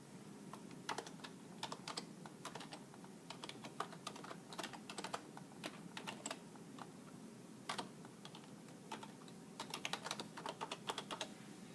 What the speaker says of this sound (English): I'm going to go ahead and type in my email and password that's associated with my